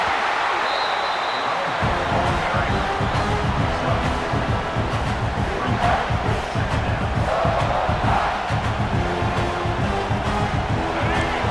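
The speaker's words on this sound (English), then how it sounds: "here comes the noise. This crowd is trying to inspire this defense" A big stadium crowd in a college football video game roars steadily and loudly, a sustained wall of cheering with a commentator's voice running over it.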